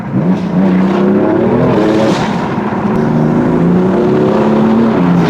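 A car is driven through twisting roads, its engine a steady close drone whose pitch rises and falls as the revs change through the bends.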